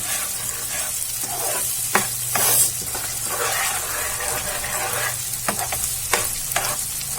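Green chili paste stirred into frying matar paneer, a loud close sizzle with repeated scraping strokes of the spoon across the pan, steady throughout with a few sharper clinks.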